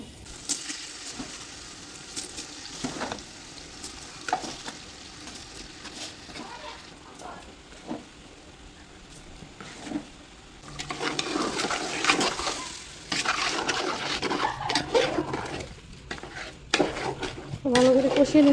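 Meat is stir-fried in a pan with steady sizzling and frequent scraping and clanking of a spatula against metal, growing louder and busier in the second half, with little talk.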